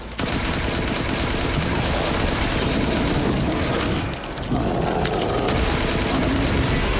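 Dense, continuous gunfire-like blasts and booms fill the scene as a missile is fired through a small roof opening during a Resident Evil Village boss fight, loud and steady with a brief dip midway.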